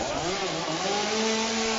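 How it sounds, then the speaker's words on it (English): A working chainsaw roars in a wrestling ring, its motor a loud continuous buzzing drone whose pitch wavers and climbs slightly, with no voices. "Oh my, that's a working chainsaw."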